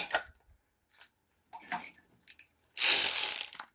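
A ratchet with an 11 mm socket on a Peugeot 504 XD2 diesel engine gives short bursts of clicking and metallic clatter, ending in a longer, louder stretch of rapid ratcheting at close range.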